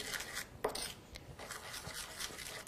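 A spoon stirs a green clay, lemon and honey face mask in a bowl, making faint, close, irregular scraping and rubbing strokes with soft clicks.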